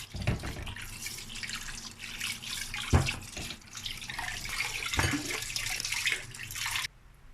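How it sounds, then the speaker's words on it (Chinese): Blanched pork bones are rinsed under a running kitchen tap. Water splashes and gushes steadily close by, with a few knocks and clunks as the bones are handled, then the flow stops at the end. "焯水后清洗好龙骨"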